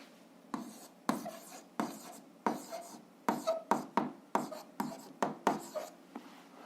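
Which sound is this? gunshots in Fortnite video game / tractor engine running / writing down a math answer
writing down a math answer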